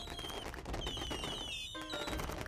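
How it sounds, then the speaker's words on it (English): Rapid crackling bursts and bright whistling streaks of fireworks in the strategy game Hexarchy, dense and continuous with a brief dip before a renewed barrage, no talking. "Look at all the fireworks."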